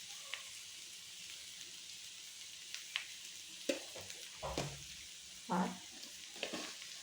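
Bengali shukto vegetables, salted, sizzle in a pan while a spoon stirs them, with soft frying hiss punctuated by irregular scraping clunks close by.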